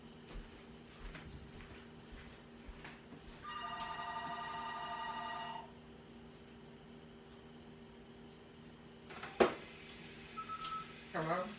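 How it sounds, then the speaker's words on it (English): A home telephone rings once in a kitchen with a steady electronic trill lasting about two seconds. It is moderately loud over a quiet, humming room, and clatter and a voice follow afterward. "Let me answer this phone."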